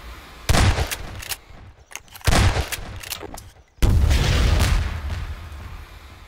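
Gunfire in Garry's Mod during a Starship Troopers warrior bug infestation: three loud, rapid bursts of automatic shots with heavy booming impacts, separated by brief lulls.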